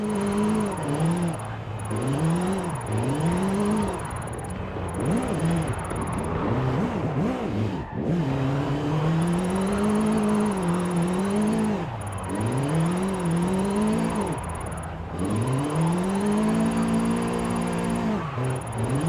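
A Mustang Mach-E 1400 electric drift car drifts in Forza Horizon 5. Its motor whine sweeps up and down in repeated arcs as the car slides, with tyre scrub underneath, steady and close throughout.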